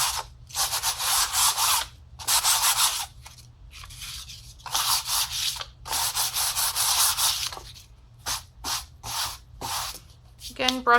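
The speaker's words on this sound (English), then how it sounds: "Go back with a little bit more of the rough sandpaper in a couple spots." Rough sandpaper scrubs across a painted canvas in bursts of brisk back-and-forth strokes, with short pauses between passes and a few quick final rubs near the end, close and fairly loud.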